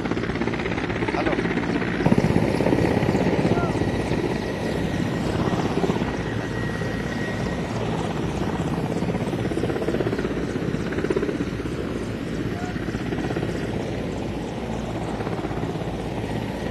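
An Indian Air Force helicopter arriving at Puri for the President's visit makes a strong, continuous rotor and engine drone with a high whine, steady in loudness and close by.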